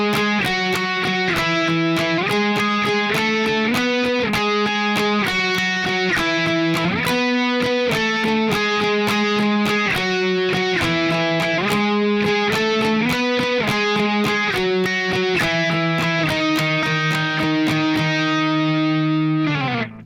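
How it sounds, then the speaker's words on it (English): Distorted electric lead guitar playing a swiping octave riff from "The Great Escape" by Boys Like Girls, fast even strummed octaves that step through a repeating sequence of pitches for about twenty seconds, loud and close, ending on a held chord. "So that whole lead guitar octave swiping part sounds like this."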